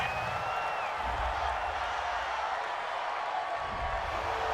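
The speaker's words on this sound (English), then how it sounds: "this crowd does not like that call" Stadium crowd reacting to a penalty call in an American football video game, a broad, steady roar of boos and jeers, loud and continuous with no pauses.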